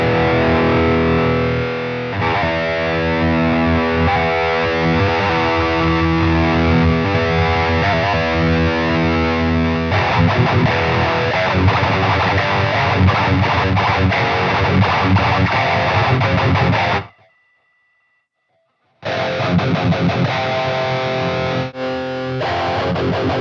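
Heavily distorted high-gain electric guitar through a four-channel pedalboard preamp plays sustained, saturated chords and riffs, loud and close, with a brief silent gap near the end before it resumes.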